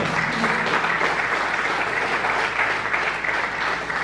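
A church congregation applauding during a sermon, a steady, full wash of many hands clapping for several seconds with no voices.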